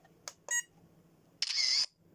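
Camera shutter and beep tones from a 4DRC Pro drone remote taking photos: two short clicks in quick succession, then a longer bright electronic shutter sound, crisp and close against near silence.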